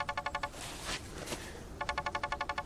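A telephone rings in two close, loud bursts of rapid trilling pulses, with a short gap of background hiss between them and no talking.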